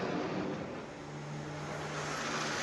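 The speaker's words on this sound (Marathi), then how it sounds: "लढाऊ विमान प्रदर्शन या ठिकाणी दाखवलं जात आहे" Fighter jets flying past in a Republic Day air display over Rajpath, Delhi, a steady broad roar that swells and holds at a distance with no speech.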